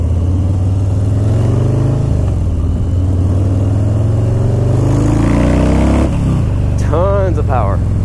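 A 2018 Harley-Davidson Low Rider Custom motorcycle pulls away loud and close, its V-twin rumble climbing through rising revs with a shift partway through and another burst near the end.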